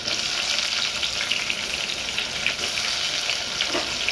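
Tomato, onion and garlic fry in a pan for misal with a steady, bright sizzle as the mixture is stirred, a continuous hissing crackle with no talking.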